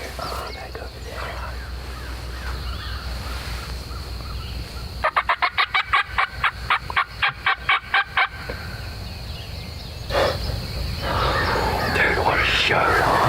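A wild turkey gobbles in the woods, a loud rapid rattling gobble burst standing out over the low rustle of outdoor ambience, with quiet whispering voices before and after.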